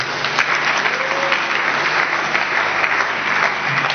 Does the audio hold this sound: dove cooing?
no